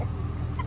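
Chickens in a backyard pen give a brief, low clucking murmur at moderate distance, a short soft burst with no talking over it.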